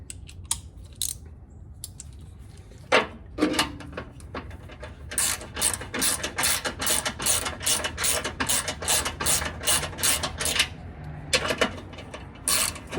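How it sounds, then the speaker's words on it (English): A 13 mm ratchet wrench tightens the exhaust bolts on a 2021+ Ford Bronco 2.7L, where a Flowmaster Outlaw exhaust is being fitted. Rapid, close ratchet clicks come in a long, steady burst, with a few short, separate bursts before and after it. "we will tighten these down"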